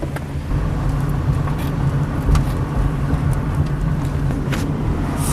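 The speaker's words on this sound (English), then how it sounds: "Sissy, stop texting while you're driving." A car is driven at a steady pace, with a continuous low engine and road rumble heard from inside the cabin and a few faint clicks and knocks over it.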